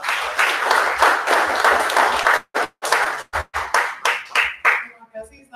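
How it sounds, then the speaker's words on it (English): An audience at a startup meetup applauds an ambassador with loud, continuous clapping that breaks after a few seconds into scattered, separate claps and fades out. "You applause to Mrs. Yurifa."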